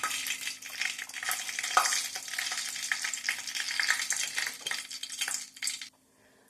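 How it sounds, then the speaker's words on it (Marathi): Mustard seeds drop into hot oil and sizzle and crackle steadily with a few stirring clinks, close up, ending abruptly. "तेल गरम झालेलं आहे. थोडी राई टाकायची."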